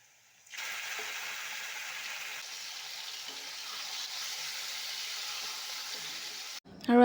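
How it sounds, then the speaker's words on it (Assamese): Local chicken meat sizzles in a pan with fried onions, producing a steady, moderately quiet hiss that starts abruptly after a short silence and holds evenly before a sharp clatter at the end. "ইয়াৰ পিঁয়াজখিনি অকণমান ৰঙচুৱাকৈ ভাজি লৈছোঁ আৰু মাংসখিনি বহাই দিছোঁ।"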